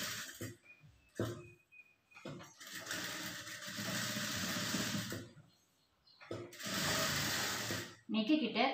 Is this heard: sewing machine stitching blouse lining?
yes